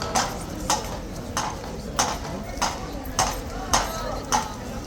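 An unsettled horse's hooves clop in a steady, uneven series of sharp hits on hard ground, close by, with background noise and chatter underneath.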